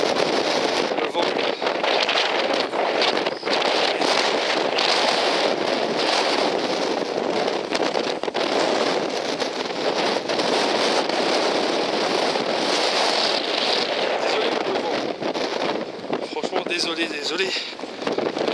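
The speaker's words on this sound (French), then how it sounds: "Le vent." Strong wind buffeting the microphone on the coast of Brittany, a loud, continuous roar with gusty rumbling that holds steady for the whole stretch without letup.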